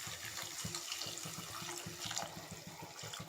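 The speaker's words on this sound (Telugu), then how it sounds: "ఇప్పుడు మనం ములక్కాడ మనకి మగ్గడానికి కొంచెం వాటర్ పోసుకుందాం" Half a glass of water poured into a pan of drumstick curry, a steady splashing gurgle with faint clinks, close and continuous without talk.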